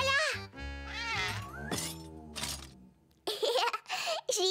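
A cartoon cat meows several times in drawn-out, bending cries at close range, followed by bursts of childlike giggling and chatter.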